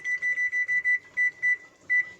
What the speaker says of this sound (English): Set my timer here.